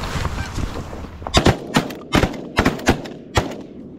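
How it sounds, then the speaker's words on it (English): Shotgun blasts during goose hunting in a flooded cow pasture, about half a dozen sharp, loud shots fired in quick irregular succession, with faint goose honking underneath at the start. "That took way too many shots."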